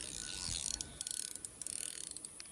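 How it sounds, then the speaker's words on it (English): The drag on a fishing reel is tightened by a creek in a Texas bayou, giving a quick run of faint, rapid ratchet clicks close up over light background hiss. "I need to tighten up this drag"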